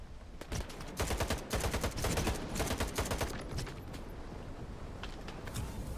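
Rifle gunfire in S.T.A.L.K.E.R. 2: Heart of Chornobyl, fired as rapid dense bursts of sharp, loud cracks over several seconds, close and without talk over it.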